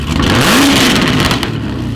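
Race car engine revving hard, a loud nearby rev that rises and falls with a sweeping pitch, then settles into a steady rumbling idle.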